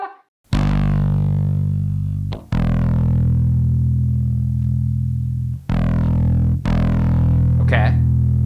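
A bass guitar runs through a Boss ODB-3 overdrive pedal at its lowest distortion setting with no EQ or boost, giving four loud sustained notes with a light grit, each ringing then restruck.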